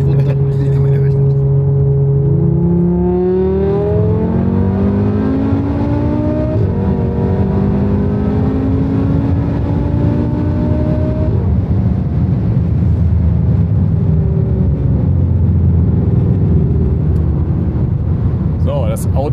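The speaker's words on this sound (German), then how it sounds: "Selbst im ersten Gang kommt der Lader trotzdem noch so heftig." A five-cylinder turbocharged car accelerates hard in first gear, its engine note climbing steeply in pitch with a strong turbo rush, then shifting and pulling again, loud and continuous from inside the cabin.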